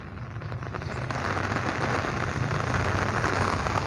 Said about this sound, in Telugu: హైదరాబాద్లో వర్షం అనేది కంటిన్యూస్గా 3 days నుంచి నైట్ పగలనకుండా పడగా కురుస్తూనే ఉంది